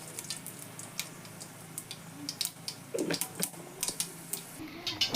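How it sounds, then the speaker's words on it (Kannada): Mustard seeds crackle and spatter in hot oil during tempering for a bitter gourd palya, a scatter of sharp, close pops that grow denser and louder toward the end. "ಎಣ್ಣೆ ಕಾದೈತೆ ರೀ. ಸಾಸಿವೆ ಹಾಕೋತೇನೆ ಸ್ವಲ್ಪ."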